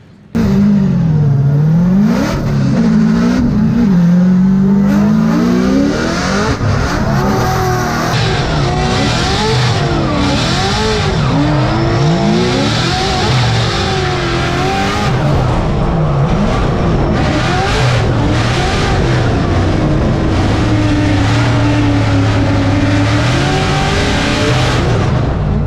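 BMW drift cars at a Formula Drift season opener in Orlando roar continuously at close range, engines revving and surging through long sweeping pitch changes with a steady loud wash of noise throughout.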